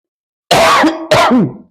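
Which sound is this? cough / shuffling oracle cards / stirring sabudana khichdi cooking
cough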